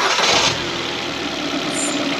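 The engine of a 2013 Ford Fiesta, just serviced for a cylinder 1 misfire, cranks and catches close up, then settles into a steady, even idle.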